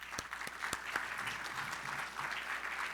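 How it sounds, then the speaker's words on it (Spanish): An audience at an industrial forum in Arequipa claps steadily for three seconds, a dense even patter with a few sharper claps close by at the start, moderately loud and without voices. "Un aplauso, por favor."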